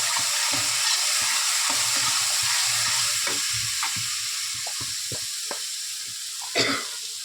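Turmeric and ginger-garlic paste frying in a pan, stirred with a series of irregular scraping strokes over a constant close sizzle, one louder clack near the end, no talk.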